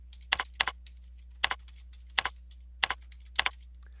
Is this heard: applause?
no